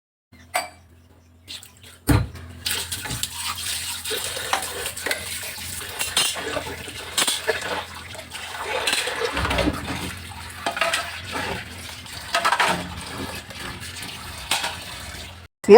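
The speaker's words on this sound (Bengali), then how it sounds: "এই যে থালা বাসন জমানো রয়েছে রাতেই সব ধুয়ে রাখি কিন্তু আজকে কয়েকটা রয়ে গিয়েছে এবার এগুলো আগে মেজে নিয়ে" Dishes and cooking pots are scrubbed and rinsed under water, with steady rubbing and splashing broken by sharp clanks of metal utensils.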